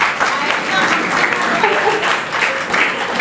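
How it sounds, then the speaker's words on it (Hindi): Dense, steady applause from the audience at an annual day function fills the whole stretch, loud and close, with a few voices mixed into the clapping. "So again और एक बार जोरदार ताली हो जाए."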